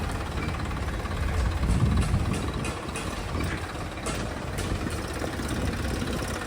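A Massey Ferguson 241 tractor in good condition idles with a steady low rumble, close and continuous, with a slight swell in loudness partway through.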